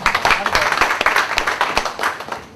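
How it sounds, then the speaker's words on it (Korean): Applause from union delegates at an extraordinary general meeting, greeting an elected chairman: a brief burst of dense clapping with sharp individual claps standing out, fairly close and steady throughout. "박수 한번 부탁드립니다."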